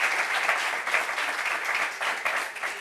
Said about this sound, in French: Applaudissements pour Agomba Mishara.